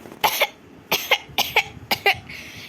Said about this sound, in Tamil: ஐயோ, என்ன இருமல் இப்படி வருது?